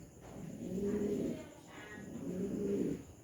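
Pigeons cooing indoors at home, two low, rolling coo phrases about a second apart, fairly close and clear with no talk.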